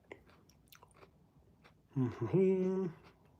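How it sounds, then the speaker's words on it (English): Raw ginger is chewed close to the mouth, giving faint, soft, crunchy bites. A short burst of voice follows, with a person briefly speaking. "sorry, I'm chewing raw ginger,"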